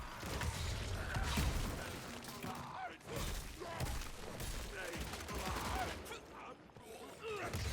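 Gunfire in the action video game Evil West, a sustained fusillade of heavy shots and thuds over dense game noise, with a voice talking faintly at times.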